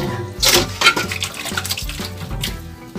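Running water splashes steadily as pork intestines are rinsed for crispy isaw, with occasional knocks against the sink or a bowl and no talking.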